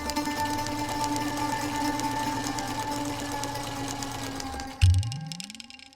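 A sewing machine whirs steadily for several seconds, then stops abruptly with a thump and a fading low hum.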